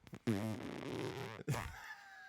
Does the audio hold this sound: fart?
yes